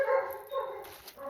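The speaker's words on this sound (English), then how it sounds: "we've got Sadie in the background, if you can hear her barking." A dog named Sadie barks and yips in the background, a brief faint burst of a couple of sharp calls.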